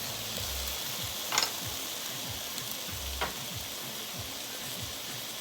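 Garlic and a chunk of frozen spinach sizzling in a pot of curry chicken stew, a steady close hiss of frying with a couple of brief clatters as the ingredients go in.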